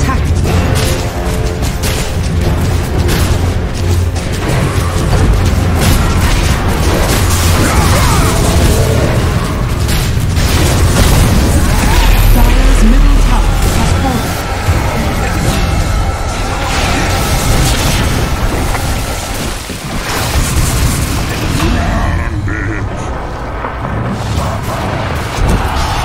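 A tower under attack in Dota 2, with dense, loud booms, crashes and layered effects forming a continuous roar that barely lets up for nearly half a minute.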